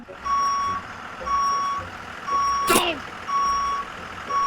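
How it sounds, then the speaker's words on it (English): A public transit bus in Broward, Florida sounds a loud, regular reversing beep, four evenly spaced tones over a low engine idle, with a brief sharp hiss near the end like an air brake release. "The bus."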